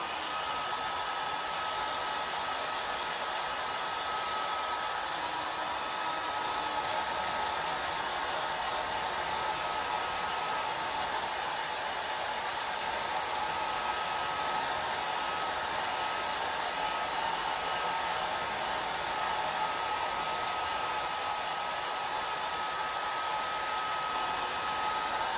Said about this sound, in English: I'm just going to put it on a cool setting and just get this dry.